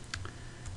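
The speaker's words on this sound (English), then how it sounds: "I just keep typing." Computer keyboard keys typed during AutoCAD entry of surveying data for a lot: a few quick, close clicks spaced irregularly over a low steady hum, with no talking.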